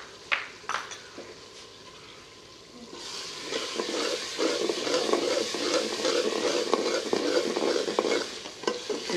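Spices for baingan bharta start frying in a pan, with a few clinks of stirring and then a steady hissing sizzle that stays loud and close, and no voice.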